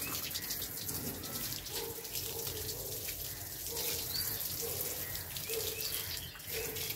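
Water is poured gently over a banyan bonsai tree, a soft continuous splashing wash at low volume that runs steadily throughout.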